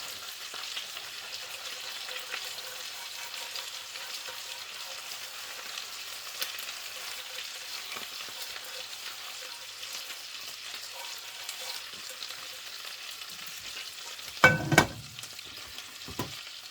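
A quiet, steady sizzle of Swedish meatballs frying runs throughout, broken near the end by a few loud clanks and scrapes of stirring in the pan.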